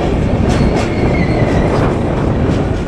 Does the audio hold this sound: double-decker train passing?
yes